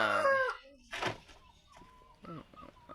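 Dega-breed roosters at a farm crow loudly at the start, then cluck and call softly in short bursts, with a dull thunk and some faint voices in the background.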